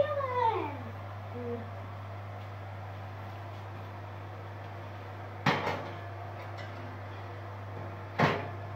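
An oven door in a home kitchen opening and closing as lemon cake muffins go in, two sharp clunks several seconds apart over a steady low hum, with a brief squeak at the start.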